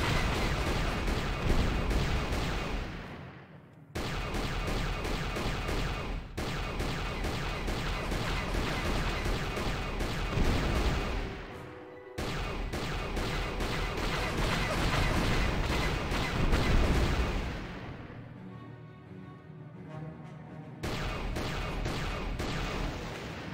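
Game turrets in KOTOR fire in a sustained, dense barrage of rapid blasts, loud and continuous, broken by a few brief pauses.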